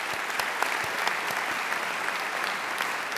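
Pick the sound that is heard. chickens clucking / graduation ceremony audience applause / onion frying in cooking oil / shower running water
graduation ceremony audience applause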